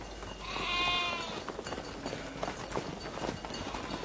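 A flock of sheep driven along by herders in a biblical-era pastoral setting, with a few close bleats early on and a steady shuffle of hooves and movement throughout.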